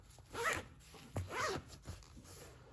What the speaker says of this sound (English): Now we got the zipper.